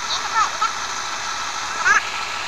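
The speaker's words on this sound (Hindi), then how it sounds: "और अभी हम हमारे स्प्रे पंप की टंकी में भर रहे हैं पानी" Water gushes steadily into the tank of a farm spray pump being filled for spraying herbicide on a paddy field, a continuous rushing pour with a few brief voice-like sounds over it.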